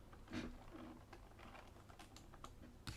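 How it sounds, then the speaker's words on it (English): Quick, faint clicks of typing on a computer keyboard, irregular keystrokes tapping close by in a quiet room. "Oh shit, I was typing that shit in."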